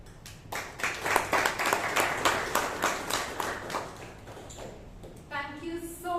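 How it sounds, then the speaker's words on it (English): A Toastmasters meeting audience in Bangalore applauds, a dense round of clapping that swells and then fades over several seconds, followed by a speaking voice near the end. "Let's give him a loud round of applause."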